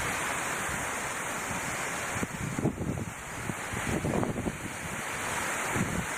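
A creek and a small waterfall rush steadily beside a canyon trail, a dense, continuous roar of flowing water with a few brief louder surges.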